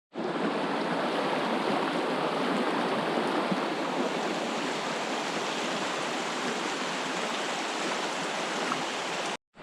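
A mountain brook trout stream in the Great Smoky Mountains flows with a steady, dense rush of water, loud and close and unchanging from start to end.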